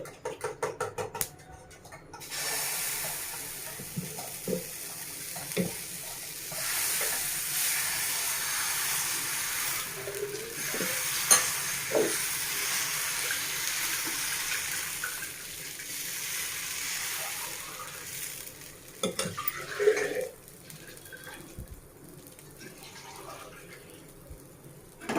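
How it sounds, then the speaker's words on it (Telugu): Pesarattu batter cooking on a hot griddle, a soft continuous hiss and steamy sizzle with a few faint scrapes and clinks, fairly quiet, no talking. "ఇప్పుడు మనం పెసరట్టు వేసేస్తాం."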